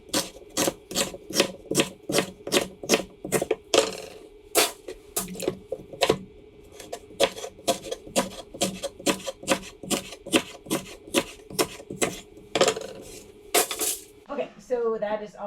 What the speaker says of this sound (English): So I'm gonna go ahead and cut up all this rhubarb